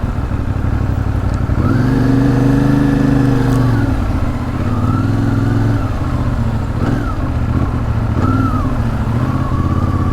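A Moto Morini Allthrike 450 adventure motorcycle rides through traffic, its engine droning loudly and steadily with rising and falling revs as it shifts, heard from the rider's position amid wind noise.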